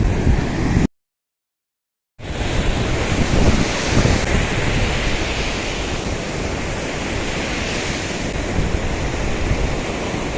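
Sea surf at a beach, a steady loud roar of breaking waves mixed with heavy wind buffeting, cut by a brief gap of silence near the start.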